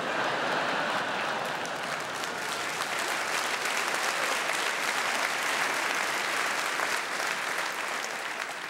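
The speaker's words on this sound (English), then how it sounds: "That's a lot of clapping for lazy people." A large comedy festival audience claps steadily and loudly without pause, a dense wash of applause that holds its level throughout.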